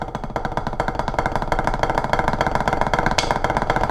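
Rapid drumstick strokes hit a Vic Firth Quadropad practice pad without its laminate in a dense, even stream of taps, sounding dull and muffled, close up with no talking.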